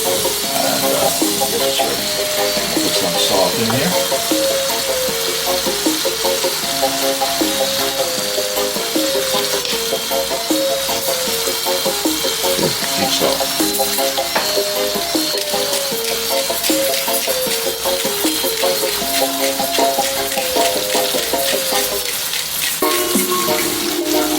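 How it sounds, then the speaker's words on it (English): A pot of chicken feet adobo stew with tomato, cooked Filipino and Jamaican style, bubbling steadily with a dense continuous sizzle and gurgle, close and loud throughout, with occasional clinks near the end. "I'm going to add some liquid in this and allow it to boil so the tomato can boil out and dissolve."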